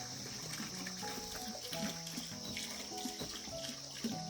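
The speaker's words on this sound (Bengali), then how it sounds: "এই যে জলটা নামছে, এটা কিন্তু পাহাড় থেকে নামছে।" Mountain water streams steadily downhill beside a rural road to a homestay near Darjeeling, a continuous close rush and trickle with a few faint tonal sounds and no speech.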